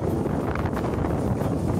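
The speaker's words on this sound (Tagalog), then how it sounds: "Sobrang lakas ng hangin." Strong wind buffeting a boat out at sea on a fishing trip in the Philippines, a steady loud roaring rush with constant low rumble and no pauses.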